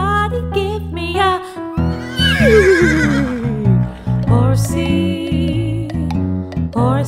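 A horse neighs loudly in a children's sing-along song, one long descending whinny ringing out over bright music in the middle of the clip, with clip-clop rhythm and melody around it.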